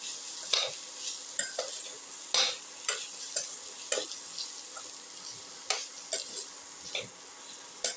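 A shallot dip mixture with chili powder sizzles in a pan as it is sautéed and stirred, with a soft frying hiss under a dozen sharp, irregular taps and scrapes of a spoon against the pan.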